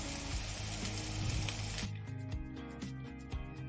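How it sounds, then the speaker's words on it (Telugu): Onion paste frying with coriander powder, garam masala and chicken masala in a pan for chicken fry piece biryani, a dense steady sizzle that drops to a softer crackle partway through, with intermittent stirring clatter. "ఇప్పుడు ఇందులో ధనియాల పొడి గరం మసాలా అలాగే చికెన్ మసాలా కూడా వేసుకుని పచ్చివాసన పోయే వరకు ఫ్రై చేసుకోండి"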